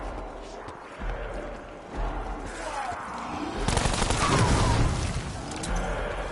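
Rapid video game gunfire crackles in bursts, building into a louder, denser volley in the second half, with shooting against zombies and a gruff spoken voice at points.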